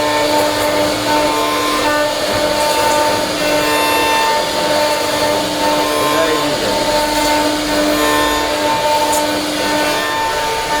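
A machine carving designs into wooden furniture in a workshop, a loud steady whirring drone with tonal hum and grinding texture, continuous and close, with a voice faintly under it.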